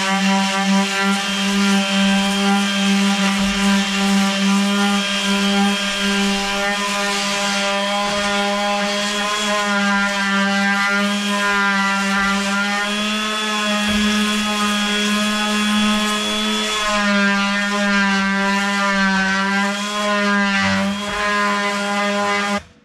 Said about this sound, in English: Grinding or sanding wheel, it works good to get the big stuff off. I use my jitterbug.